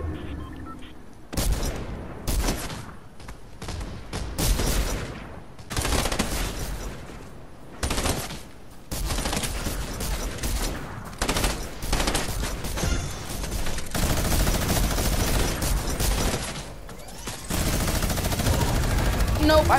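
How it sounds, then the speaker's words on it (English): Rapid automatic gunfire from a minigun in a multiplayer shooter video game, dense sustained bursts with heavy low-end booms and brief gaps, loud and close, with a player talking intermittently over it. "somebody spammed me with a minigun"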